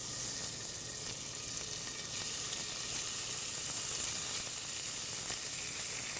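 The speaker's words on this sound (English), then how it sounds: "So basically, I'm going to sear this quickly and take it out of the pan" Meat searing in a smoking hot oiled pan, a continuous broad hissing sizzle that stays even and fairly close throughout.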